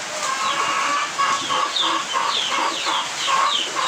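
Young Fayoumi chicks and hens on a poultry farm keep up a steady stream of close, repeated high peeps and soft clucks.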